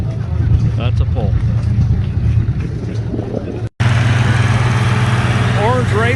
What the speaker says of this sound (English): That's going to be the longest pull of the day for sure